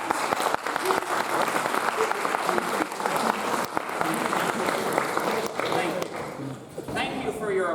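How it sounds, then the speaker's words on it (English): A crowd in a university computer science lecture applauds steadily for several seconds, dense clapping with scattered cheers and voices mixed in, fading slightly near the end. "Thank you for your applause"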